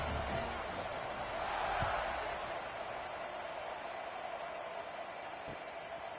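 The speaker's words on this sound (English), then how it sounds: "this crowd is buzzing after that last score" Crowd buzzing in a college football video game stadium before a kickoff, a steady broadband roar with a slight swell about two seconds in, continuous and moderately loud throughout.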